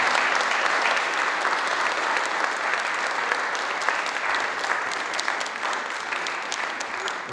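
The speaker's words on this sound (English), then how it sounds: "So a round of applause to you all, please." Staff at a glazing company's 40th-anniversary celebration give sustained, dense applause from a large indoor crowd, loud and steady throughout.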